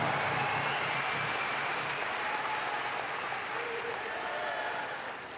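A large audience claps at a political speech event, loud sustained applause that fades slightly toward the end.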